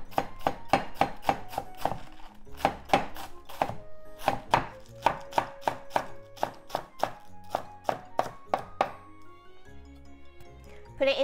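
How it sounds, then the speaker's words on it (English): A kitchen knife shreds a cored cabbage on a cutting board, with brisk, rhythmic chops in quick bursts, crisp and close, separated by brief pauses. "Let's shred the cabbage."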